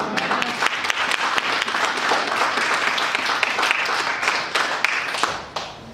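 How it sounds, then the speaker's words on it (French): A church congregation applauds and cheers loudly, a dense steady wash of clapping that holds for several seconds and then thins toward the end, with a voice faintly beneath it. "Est-ce que tu peux acclamer très fort le roi de roi?"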